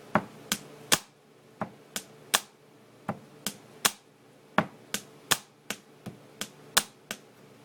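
A pen tapped on a desk in a bass, snare, clap beat, giving sharp, close percussive hits in an even repeating rhythm, with nothing else in the background.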